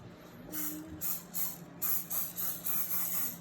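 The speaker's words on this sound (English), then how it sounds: "what we're gonna do first is we're gonna spray them" Several short hissing bursts of an aerosol cooking spray, close by, sprayed in quick uneven pulses with brief pauses between them.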